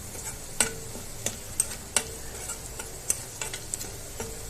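Onions browning in a pan for a tripe dish sizzle steadily up close, broken by a string of light clicks and taps from a stirring utensil.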